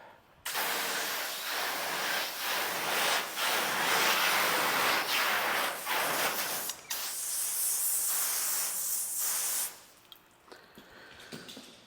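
A pressure water spray hisses steadily across a car body panel for about nine seconds, with brief pulses and shifts as the stream moves, then cuts off, leaving a few faint drips.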